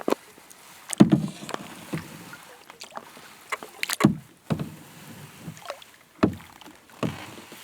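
A canoe is paddled on Horseshoe Lake in the Adirondack Mountains, with close, irregular paddle strokes, knocks against the hull and water swishes, loud and separated by quiet gaps.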